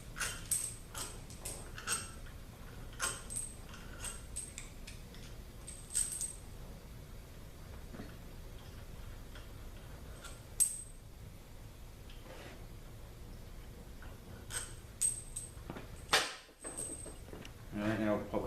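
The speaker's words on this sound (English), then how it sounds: "take all the 10 bolts out" Bolts come out during an E4OD automatic transmission teardown: scattered metallic clinks, taps and rattles of the bolts and tools, fairly quiet and irregular over a low background, with a person talking at times.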